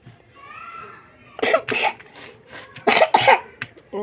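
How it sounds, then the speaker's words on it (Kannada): Several sharp, close coughs come in two bursts, separated by quieter stretches, with a faint tonal sound early on. "ಕೆಮ್ಮು"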